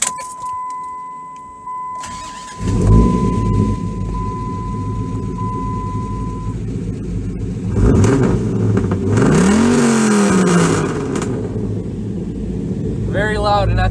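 A 2004 Dodge Ram pickup truck engine cranks and starts, then idles with a low rumble before revving up loudly and settling again; a voice is briefly heard nearby.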